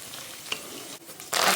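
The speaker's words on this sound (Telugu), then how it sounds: "ఇదిగోండి ఆయిల్ పోసి నేను పచ్చడి తిరగమాత వేస్తున్నాను" Tempering for gongura chutney hits hot oil, a soft steady sizzle and stirring that swells into a loud bright hiss near the end, no voices present.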